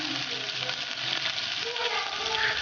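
Chopped onions frying in hot oil for a Kerala fish curry, a steady close sizzle with faint stirring under it and no talk.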